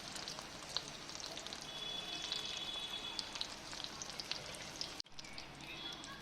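Pitha made from pointed gourd fries in hot oil with a steady, dense sizzle and crackle throughout, close to the listener. The sizzle cuts out briefly near the end and then resumes, and no one speaks.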